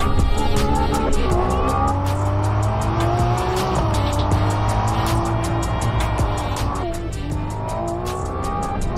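A Ferrari F80 roars through a lap at speed, its engine revving up and down through the gears while the tires squeal repeatedly, loud and close throughout.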